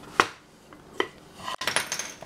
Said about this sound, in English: So take out our spoon